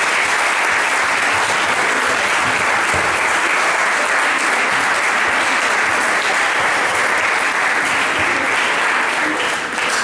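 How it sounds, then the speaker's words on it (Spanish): An audience applauds loudly to welcome a writer at a talk event, sustained dense clapping from a full crowd lasting throughout without letting up. "Le damos la palabra con un fuerte aplauso a la escritora Patricia Rato."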